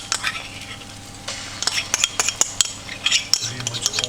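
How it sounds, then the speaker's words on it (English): Ginger garlic paste going into onions frying for butter chicken: close metal clinks and scrapes of a spoon against the pan, quickening toward the end, over a light sizzle. "now what we do is we're going to put in 2 tablespoons of ginger garlic paste"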